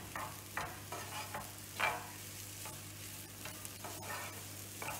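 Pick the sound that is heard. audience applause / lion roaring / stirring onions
stirring onions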